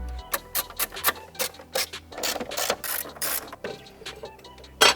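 Ratchet wrench clicking in quick irregular bursts while 10 mm bolts are snugged down on the engine cover of a BMW F30 335i with an N55 engine, near and fairly loud with short pauses.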